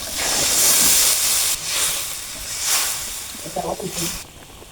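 Curry liquid poured into a hot pan of fried soybean chunks: loud bursts of steamy hissing that rise and fade in waves, settling into softer bubbling toward the end.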